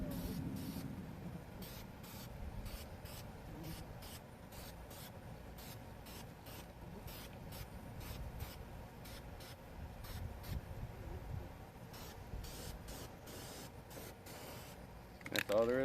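Aerosol primer being sprayed onto engine parts for a diesel engine, a steady soft hiss running almost continuously in pulsed side-to-side passes, with a sharper burst near the end.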